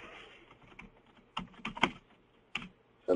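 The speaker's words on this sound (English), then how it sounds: "I want to type an email to someone" Typing an email on a computer keyboard in Microsoft Outlook, a close series of irregular key taps with a few louder strikes, clear and alone without talk.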